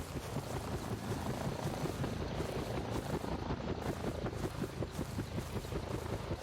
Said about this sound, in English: they did change the sounds for the helicopter, or the trophy copter coming in